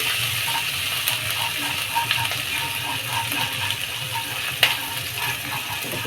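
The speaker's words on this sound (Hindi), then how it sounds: "चला चला के फ्राई कर लेंगे" Lightly crushed garlic fries in a pan while being stirred, a soft continuous sizzle with faint scraping knocks of the spoon and one sharper clack near the end; no one talks.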